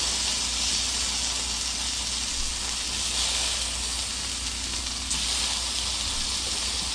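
Burger patties sizzle on a grill after being flipped, a continuous, even, fairly loud hiss and crackle with no pauses and no talking.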